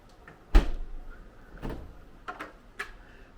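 A full-size refrigerator and freezer in a standard hotel room, with a few sharp knocks and clunks of the doors being handled, the loudest near the start, then softer thumps spaced over a few seconds.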